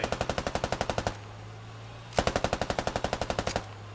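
Two rapid bursts of machine gun fire in the video game Squad, each a tight run of evenly spaced, loud, close shots, with a brief humming pause between them.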